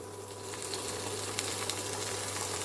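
Finely chopped onion and garlic fry in a pan, giving a steady, moderate sizzle with a faint low hum beneath and a couple of small crackles or pops partway through; no talking.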